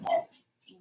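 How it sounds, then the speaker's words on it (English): A dog gives a single short, close bark with a brief quieter sound trailing after, amid nearby barking dogs. "What do you do about all these barking dogs?"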